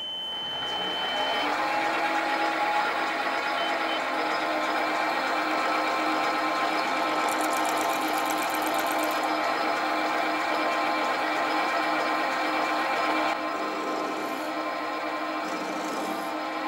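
A metal lathe turns down the crosshead for a Stuart half beam model steam engine, giving a steady continuous scraping, rubbing cut with a constant machine hum that carries on alone for the whole stretch, with no talk.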